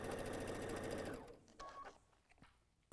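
A sewing machine stitches mini quilt pieces in a steady fast run that stops after about a second, followed by a few faint clicks and handling noises nearby.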